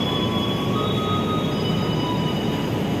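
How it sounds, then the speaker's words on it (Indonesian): The Argo Merbabu passenger train rolls into a track at Gambir station in Jakarta, a loud continuous rumble of wheels and carriages with faint high squealing, with no pause throughout. "Kereta api Argo Merbabu tambahan masuk jalur 2 stasiun Gambir"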